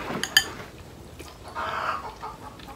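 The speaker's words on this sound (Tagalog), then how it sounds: "Ingay yung inahin na nagaitlog" A hen clucks loudly after laying an egg, giving a few sharp squawks at first and then a rapid bursting cackle, fairly near with soft background noise.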